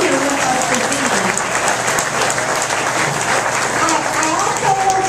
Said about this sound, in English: please join me in giving this group of candidates a big round of applause